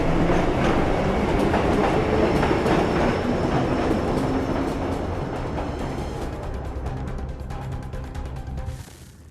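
A train rolling along rails in Assassin's Creed 3, a loud steady rumble with clickety-clack wheel beats and a faint squeal, gradually easing off and dropping away at the end.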